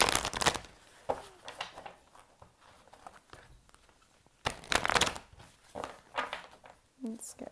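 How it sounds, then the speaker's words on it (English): Oracle deck cards riffle and shuffle in quick, crisp bursts up close, with pauses between rounds and a voice talking over parts of it. "I'm going to shuffle a couple times, and I'm going to split the deck, pull the cards"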